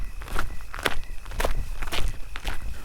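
Footsteps walk steadily along a village path at night, each step crisp and fairly close, with a quiet, still background and no talking.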